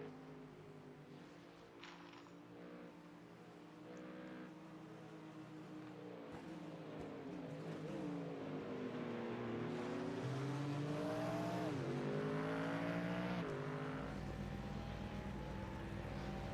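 GT3 race cars in a sim racing game crossing the start-finish line, their engines droning and rising in pitch as they pass one after another, steady and fairly loud with no talk.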